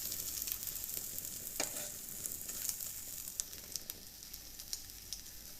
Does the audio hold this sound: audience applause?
no